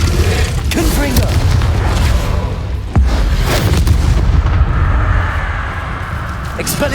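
Confringo fire spell in Hogwarts Legacy during a duel, heavy rumbling combat blasts with a sharp crack near the three-second mark, sustained loud mechanical clatter throughout and voices in the mix.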